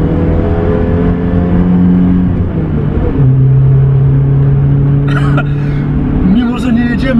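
A BMW M3 E30 pulls hard at high speed, a loud sustained engine drone rising and shifting pitch with a gear change midway, with talking inside the car over it.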